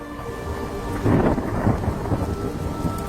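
Thunder rumbles loudly over steady rain in an animated story, a deep rolling crash swelling up then trailing off while the rain hisses on throughout.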